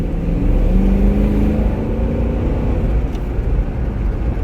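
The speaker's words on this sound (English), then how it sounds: "Let's see what this engine sounds like with the windows open." A 2022 Dodge Durango R/T with the 5.7-litre V8 HEMI engine and AWD, heard at night with the windows open, gives off a loud continuous low rumble with a rising, revving drone.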